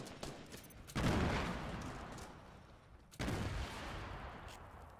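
Two loud bursts of gunfire from the Fortnite video game, one near the start and another about two seconds later, each decaying gradually with no talk over them.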